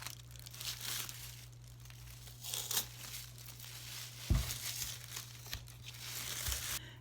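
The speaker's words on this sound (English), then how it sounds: "Now I'm going to take the tape off." Tape is peeled away from a spray-painted Dollar Tree vase, giving faint intermittent crinkling and tearing rustles up close, with a sharper rip partway through and quiet background hum.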